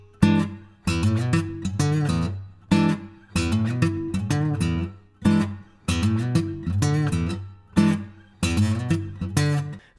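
Fingerstyle acoustic guitar plays a funk blues groove in E, with repeated chord stabs followed by quick licks in a bouncy, percussive rhythm, close and clear, no voices.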